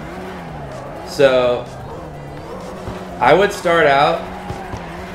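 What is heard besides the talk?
car drifting with tire squeal in video game CarX Drift Racing Online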